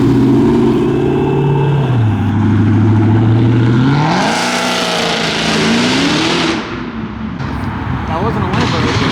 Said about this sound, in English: Audi popping and banging.